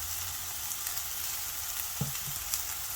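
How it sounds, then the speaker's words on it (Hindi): Potatoes for crispy potato tacos fry in hot oil, a steady close sizzle with bright crackling hiss and a couple of soft thumps near the end. "बस हल्का सा इसको बस हमने फ्राई करना है"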